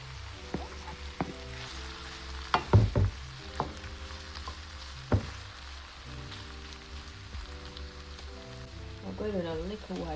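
Corned beef hits a hot pot in a one-pot corned beef and rice dish, giving a steady crackling sizzle with a few louder pops and clatters near the middle, while a voice talks over the frying throughout.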